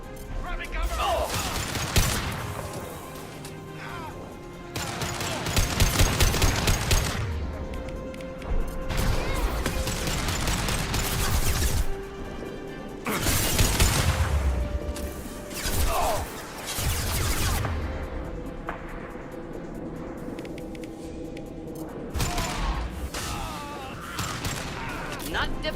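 Heavy gunfire and crashing impacts in a firefight in the video game Mass Effect 2, loud bursts recurring every few seconds over a continuous battle bed, with a voice speaking faintly.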